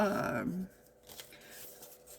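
Scissors cut through material in one quick, close snip after a brief stretch of other sound, followed by faint rustling.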